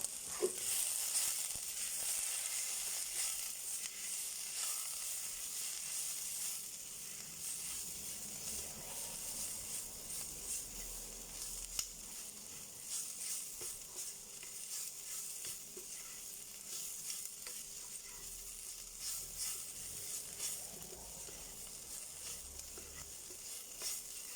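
Githeri, a Kenyan bean and maize dish seasoned with paprika and curry, sizzles steadily over low heat while being stirred, a constant soft frying hiss with occasional light scrapes.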